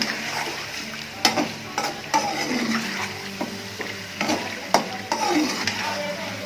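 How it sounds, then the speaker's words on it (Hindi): Green chicken karahi fries in a pan, a constant close sizzle broken by repeated spatula scrapes and knocks against the metal, with no talking. "थोड़ा सा आपने ऐसे ही इसको भून लेना है"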